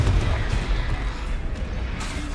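A Confringo blasting-spell explosion in a wizard video game booms out as a broad, rumbling blast, loud and sustained, with low crackling debris trailing off.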